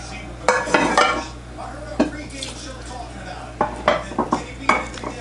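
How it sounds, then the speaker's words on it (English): A spoon stirs oyster stuffing or cornbread dressing in a pot, making several sharp scrapes and clinks against the sides at an irregular pace over a low background hum. "Now we're going to stir and see what the consistency is."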